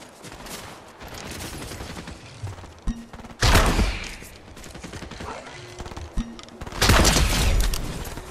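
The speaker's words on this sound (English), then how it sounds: "You want to taste the kaboom of my bow as well?" Explosive bow shots in Fortnite, two sharp booming blasts a few seconds apart over a backdrop of rattling gunfire, with a voice talking between them.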